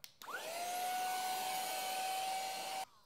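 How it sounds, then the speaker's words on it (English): Small handheld blower attachment on a budget 3D-printing gadget switches on with a click and whirs steadily at a high pitch for a few seconds, then cuts off abruptly; close and fairly quiet, no talking. "It's strong enough to blow stuff off the table or blow dust off of things"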